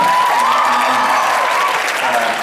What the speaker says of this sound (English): let's clap for Ned Vizzini.